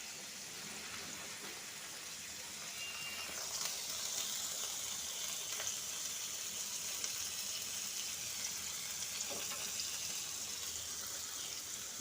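Paneer cubes frying in a pan for a mango paneer dish give a steady, close hiss and sizzle throughout, with no talk.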